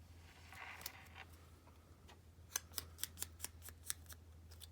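Scissors trim the wide borders off a sheet of paper, giving a run of sharp, crisp snips close to the mic, spaced evenly in a quick sequence over a faint steady hum.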